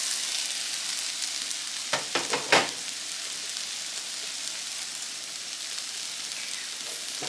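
A spice mixture with paneer sizzles steadily in a pan, with a few distinct scraping stirs near the middle and a constant close, hissing fry throughout.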